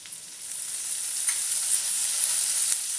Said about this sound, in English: We'll saute them for 2 minutes.